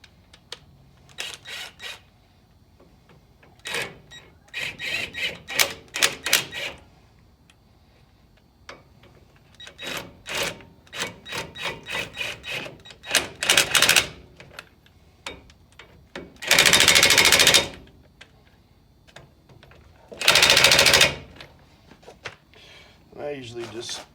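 Impact wrench tightening brake bolts on a 2005 Nissan Titan, several short rattling bursts between quieter handling, then two longer loud sustained hammering runs near the end, close by in a garage.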